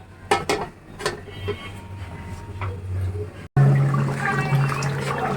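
Water pours and splashes into a cooking pot of duck meat and air potatoes, a steady rushing sound close by, with a low humming tone rising toward the end.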